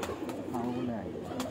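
A large French breed pigeon coos in a low, wavering call from close by on a rooftop loft, with soft background noise and a few faint chirps around it.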